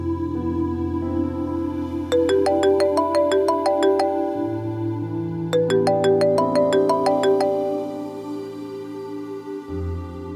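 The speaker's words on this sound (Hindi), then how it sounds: "समीर, तुम मेरा फोन क्यों नहीं रिसीव कर रहे हो?" A mobile phone ringtone plays a bright repeating melodic phrase twice in succession, loud and close, the call going unanswered, with no voices over it.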